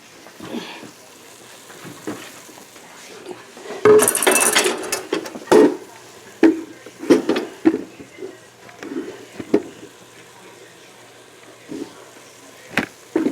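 Chopped vegetables go into a pot for a vegan chicken stew, with clattering utensil knocks, scrapes and a loud burst of tumbling pieces amid scattered clinks and quieter gaps.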